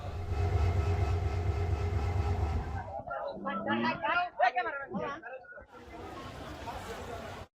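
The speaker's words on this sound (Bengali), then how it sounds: "এর আগে গতকাল থেকে শুরু হয় ক্যাটেল স্পেশাল ট্রেনের যাত্রা" A cattle special train rumbles loudly along the rails in Bangladesh for about three seconds, then fades as voices chatter nearby over lingering low noise.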